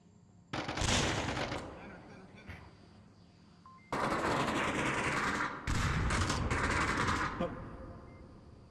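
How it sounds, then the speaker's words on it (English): Grenades and flashbangs go off in the Onward VR game, heard as several loud bursts and booming blasts with sustained noisy tails, mixed with broadcast commentary. "The nades and flashes going out."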